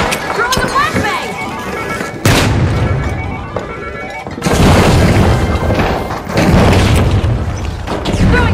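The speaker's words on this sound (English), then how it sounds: "Throwing a flashbang." A flashbang grenade is thrown and goes off in the game The Finals, heard among loud, dense game-combat noise with booming bursts and crashes.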